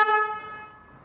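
A short horn blast from a 2020 Genuine Buddy 125 scooter: a single bright, harmonic toot that starts loud and decays within about a second.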